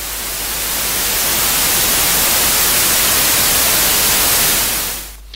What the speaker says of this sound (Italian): in questo caso scegliamo il rumore bianco, e sentirete quello che si ascolta